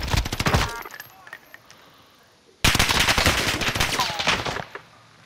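Bursts of automatic gunfire in the video game Call of Duty Warzone come as a rapid rattling volley, then a pause, then a second longer, louder burst. A faint voice is present.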